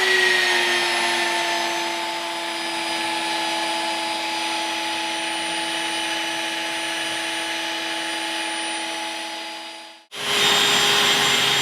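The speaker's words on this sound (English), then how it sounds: "I'm going to go ahead and compound this with our V32." A polisher fitted with a V32 orange medium cutting pad compounds a faded, oxidized headlight, whining in a steady, loud, even tone for about ten seconds before it cuts off and briefly restarts.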